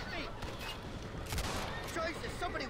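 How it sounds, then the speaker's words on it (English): Rapid gunfire crackles and pops through a dense, busy battle mix in Red Dead Redemption, with several sharp shots landing close together around the middle, steady and fairly loud throughout. "They're shooting right at me!"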